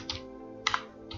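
Computer keyboard keys clatter in a few quick, close clusters of taps while someone works in Adobe After Effects, with no one speaking.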